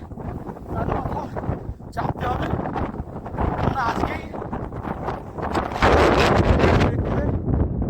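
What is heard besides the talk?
strong wind on a mountain ridge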